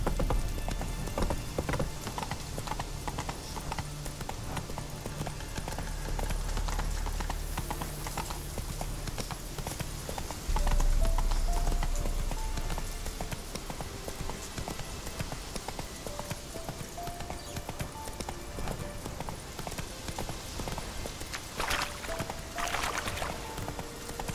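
Hooves of a horse in The Witcher 3 beat a rapid, rhythmic clip-clop at a gallop, steady and fairly close, with faint ambient game sound behind it.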